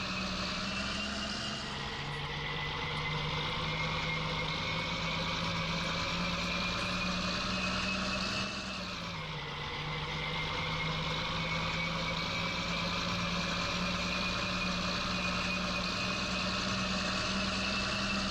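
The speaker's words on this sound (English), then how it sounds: "I will say this tractor is nice and quick" Tractor in Farming Simulator 19 driving along, a steady droning engine with a constant whine that dips briefly in pitch partway through, then holds again, no talk.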